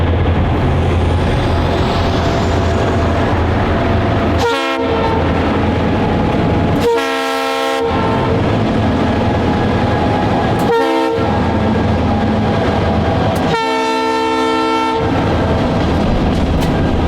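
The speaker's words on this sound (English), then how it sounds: "we caught local train B22 as it was returning from Albion with a pair of GP38-2s and 5 cars" A local freight train led by a pair of GP38-2 diesel locomotives hauling five cars rolls past, loud and close, with four long horn blasts over a steady rumble of engines and wheels.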